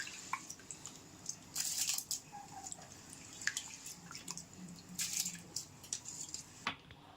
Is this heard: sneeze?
no